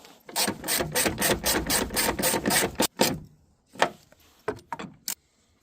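A power screwdriver drives screws back in while refitting the tail light on a 2008 Honda Odyssey, a long run of rapid ratcheting clicks, then a pause and a few short bursts, close and loud.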